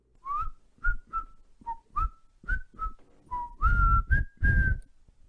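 A man whistles a short, bright tune alone, a string of clear melodic notes with brief breathy gaps, close and moderately loud.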